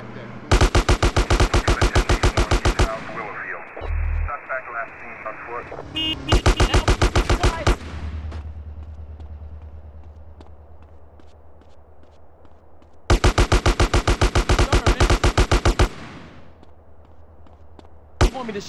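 Automatic gunfire in Grand Theft Auto: San Andreas, fired in three long rapid bursts with a short rattle between them, loud and close, amid engine-like rumble and game noise.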